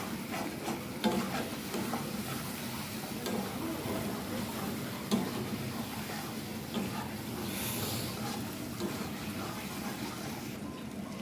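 Eggs being sautéed in a spicy masala in a pan, with a continuous moderate sizzle and hiss and soft, regular stirring scrapes running steadily underneath, without speech.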